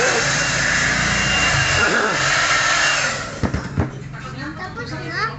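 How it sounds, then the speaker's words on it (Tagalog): A hair blower runs steadily and loud during a child's haircut, roaring for about three seconds before cutting out, followed by clicks and people talking. "Blower ni Kuya."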